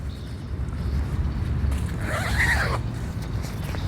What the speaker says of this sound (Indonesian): ini kita resleting dulu